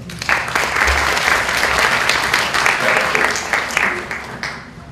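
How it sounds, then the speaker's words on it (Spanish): An audience at a literary event in a university hall breaks into loud, sustained applause, a dense wash of clapping that fades out at the end. "lo recibimos con un fuerte aplauso"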